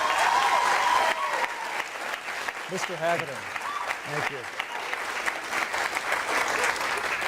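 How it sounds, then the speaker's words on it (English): An audience at a televised Minnesota congressional debate applauds in a steady, sustained wash of clapping, while someone speaks over it near the end. "I appreciate that applause"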